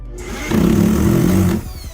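A power drill whirs steadily for about a second while pre-drilling holes for bed legs on a Wolsey bed frame, loud and close, starting and stopping cleanly.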